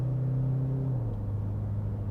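A steady, low engine drone from inside a modified stage 2 Toyota Fortuner SUV accelerating hard past 100, its pitch dropping slightly partway through, as from a gear change, under constant road rumble.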